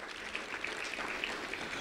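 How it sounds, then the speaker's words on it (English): Audience applause at an indoor community program, a faint, steady patter of clapping from a modest crowd over a short stretch, with no talking. "A round of applause for her."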